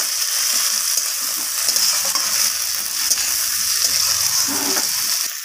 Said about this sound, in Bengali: টমেটোটা দেওয়ার পর আমি পেঁয়াজের সাথে টমেটোটাকেও হালকা ভাজা ভাজা করে নেব